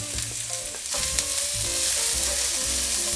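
Onions and bacon frying in a pan with olive oil and golden garlic, a steady close sizzle that swells louder partway through, with light stirring scrapes and no talk.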